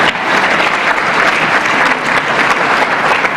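An audience breaks into loud, steady applause, a dense wash of many hands clapping close by that holds evenly for a few seconds.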